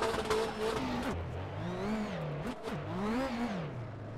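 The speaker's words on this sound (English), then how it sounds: "I feel like we have to be close to blowing this engine." Nissan S15 drift car in rFactor 2, its engine revving hard and close, the pitch sweeping sharply up and down through several throttle blips with a touch of tire squeal.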